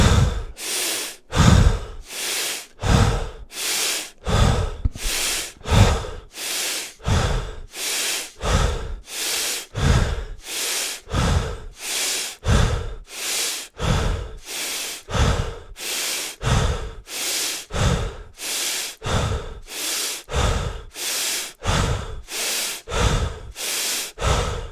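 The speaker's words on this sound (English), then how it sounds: "we're just going to do a big breath in and a big breath out, and then I'm going to count with my hands, and we're going to do 21 of these" Deep rhythmic Warrior Breath breathing during a guided breathwork session, with big forceful inhales and exhales repeating steadily about once a second, close and loud, with no talking.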